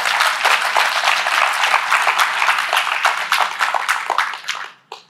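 A crowd claps loudly and steadily for several seconds, then the applause quickly tapers off to a few last claps.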